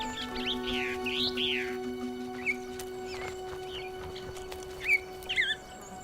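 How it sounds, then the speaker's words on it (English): Tenerife blue chaffinch calling in sparse mountain pine forest, a few short rising chirps and trills, some near and some farther off, over a faint steady hum. "Tenerife blue chaffinch."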